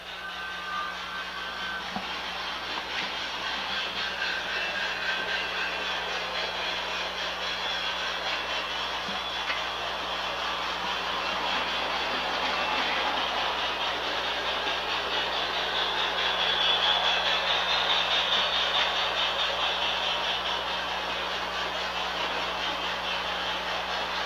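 LGB model trains run on yard track controlled by an automatic two-track yard system, giving a steady, low motor hum with soft rolling noise that swells slightly midway and continues without pause.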